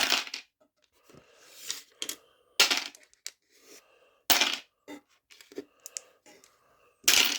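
Dice clatter on a tabletop during a Warhammer 40k battle as they are scooped up and rolled. Short bursts of rattling and clicking come in several separate clusters with quiet gaps between them, close and moderately loud.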